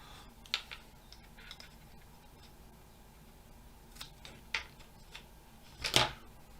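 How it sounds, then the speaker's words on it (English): Long sharp scissors cutting masking tape: quiet sharp snips and crisp rips, a few scattered clicks spaced over several seconds, ending in one louder, rougher snip close to the mic. "that's my very nice long sharp scissors"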